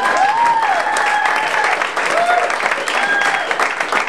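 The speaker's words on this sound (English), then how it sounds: "Give a nice round of applause to everybody that you've seen so far tonight." Comedy club audience in Scottsdale giving a round of applause, continuous loud crowd clapping with some whoops and cheers mixed in throughout.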